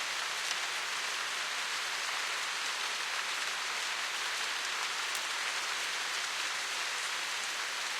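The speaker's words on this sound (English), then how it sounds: "It's raining though." Steady rainfall in a video game, a dense even hiss of drops that stays constant and moderately quiet throughout with no voices or other sounds.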